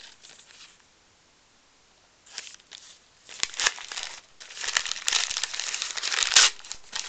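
Bursts of crinkling and crumpling wrapping paper, close and fairly loud, in irregular rustling handfuls after a brief quiet stretch.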